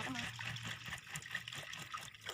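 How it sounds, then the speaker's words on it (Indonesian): Soybeans being washed in water for tempe make steady sloshing, trickling water sounds with a rhythmic swishing pulse, close by and moderately quiet, with faint voice in the background. "ini adalah pencucian pertama untuk kedelai"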